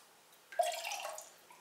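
Glaze is poured from a pouring jug into a pottery tankard, a short wet splash and trickle that starts suddenly, then fades out over about a second, heard close and alone.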